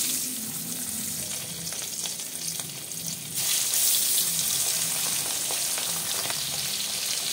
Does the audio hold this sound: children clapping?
no